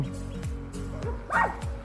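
A dog barks in short repeated yaps outdoors at a fishing spot by the water, fairly close and loud, with a sharper yelp near the end.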